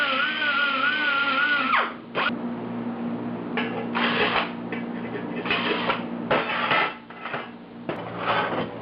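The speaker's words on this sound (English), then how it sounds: "Now that all the holes are drilled" A power drill bores mounting holes during a 1976 Mazda RX-5 Cosmo restoration, with a whining motor that winds down, followed by repeated short bursts of drilling and clattering close by.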